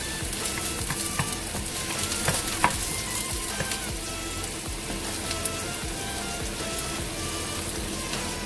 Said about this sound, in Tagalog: Tapos garlic and onion.